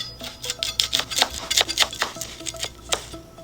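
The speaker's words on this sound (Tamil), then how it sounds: "இப்போ ஒரு கொத்து கருவேப்பிலை நல்லா பொடியாக நறுக்கிக்கலாம்." Quick, rhythmic knife chops on a cutting board, a steady run of crisp taps as curry leaves are finely cut, close and clear.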